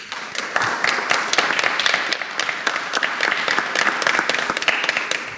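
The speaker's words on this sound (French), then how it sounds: "Applaudissements mérités et très spontanés parmi le public" A crowd applauds, dense and continuous clapping filling the room at steady loudness with no voices on top.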